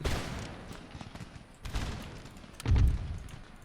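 Musket volleys crackle in a battle in the video game Empire Total War, with rolling bursts of gunfire and a heavier boom near the end. The firing sounds mid-distance, and no speech is heard.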